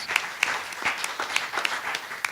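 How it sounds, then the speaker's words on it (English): Audience applause at a community gathering, a steady patter of many hands clapping with a few sharper claps standing out, moderately loud and close, with no talking over it. "Give her a round of applause."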